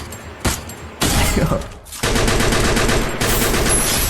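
Rapid gunfire from the Free Fire video game comes in dense automatic bursts that fill almost the whole stretch. It is loud and close, with only brief gaps between the volleys and no talk over it.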